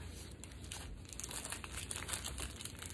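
Paper being cut with scissors into a circle for handmade paper flowers, a steady close crinkling and rustling with soft snips throughout, no talking.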